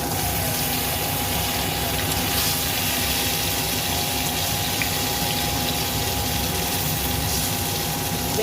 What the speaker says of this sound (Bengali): সর্ষের তেল দিয়ে বেগুনটা আমি ভেজে নেব